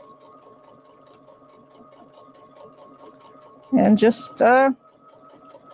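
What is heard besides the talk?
sewing machine stitching fabric in a circle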